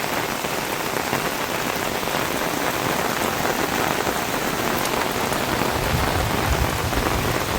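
Sudden heavy downpour during floods in Sri Lanka, a steady dense roar of rain pounding surfaces, loud and continuous throughout with no voices.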